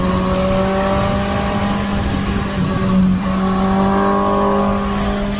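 A Suzuki GSX-S 750 motorcycle is ridden fast up a climb, its engine whining loud and steady with rising and falling pitch as it accelerates through the gears, with a constant close drone and no talking.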